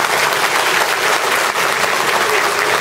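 Applause at a Turkish party congress, a dense crowd clapping loudly and continuously in a hall, with a faint murmur of voices underneath.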